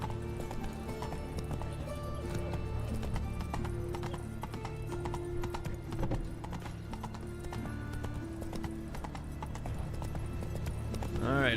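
Hooves of Roach, a horse in Witcher 3, clip-clopping in a steady trotting rhythm, with a short whinny near the end, faint and with light game sounds around it.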